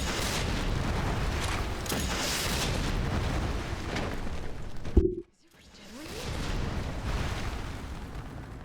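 A rocket launcher blast from Resident Evil 3 Remake lands as a single loud boom at the end of a long, dense rumble of game noise, then drops to a brief hush before the background swells back.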